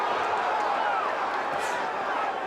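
A boxing arena crowd rises to its feet cheering, a broad sustained roar of many voices at steady loudness, with a ringside commentator talking over it.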